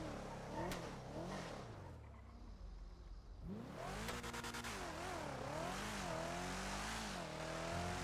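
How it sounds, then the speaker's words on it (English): A car engine in GTA V NoPixel roleplay revs repeatedly, pitch climbing and falling through several loud surges with a short lull in between, close and dominant. "You hear how this car sounds?"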